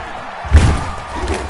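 Stadium crowd roaring in a PS4 football game before a Chicago Bears versus Cleveland Browns matchup: a steady wash of crowd noise with a thudding swell near the start, then settling into constant background cheer.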